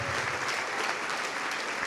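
A church congregation applauds for Jesus during a Portuguese-language sermon, a brief, steady patter of many hands clapping with no voices.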